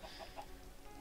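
Chicken in Minecraft, a few short, soft clucks in quick succession, faint and brief.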